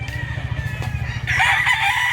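A stag rooster offered for sale crows loudly and close at hand, a single drawn-out call rising over a low, steady background rumble.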